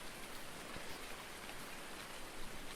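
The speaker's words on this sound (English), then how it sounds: "it's raining again." Steady rain falling on a farm with sheep, a soft, even hiss of drops heard faintly and without interruption, no voices present.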